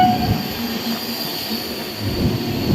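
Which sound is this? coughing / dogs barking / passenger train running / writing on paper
passenger train running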